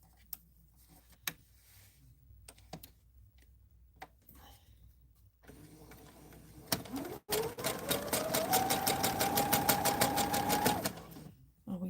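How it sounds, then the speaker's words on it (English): A sewing machine chain stitches quilt fabric seams together, running steadily and close for a few seconds in a fast, even mechanical patter after quieter handling noises and clicks. "we chain stitch this whole thing together, making sure I'm nesting."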